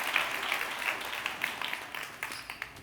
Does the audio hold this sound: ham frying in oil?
no